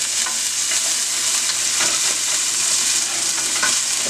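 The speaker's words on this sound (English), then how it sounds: "I will put about 2 tablespoons of olive oil in there, and to that I'm gonna add some garlic." Garlic frying in about two tablespoons of olive oil in a pot, a loud continuous close sizzle and crackle with faint stirring, no voices.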